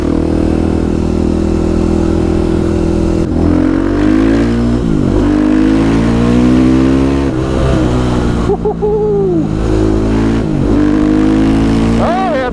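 KTM 500 EXC supermoto motorcycle engine revving and accelerating hard on back roads, loud close single-cylinder roar rising and falling through gear changes with pops on deceleration.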